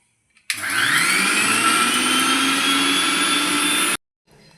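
A mixer grinder whirs at high speed, grinding a spice paste with cumin, starting abruptly and holding a loud, steady whine for about three and a half seconds before cutting off.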